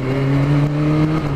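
A 1989 Yamaha FZR 1000 motorcycle engine labours at low revs, giving a loud, steady, strained drone with a wavering pitch that holds close and unbroken throughout, with no talking.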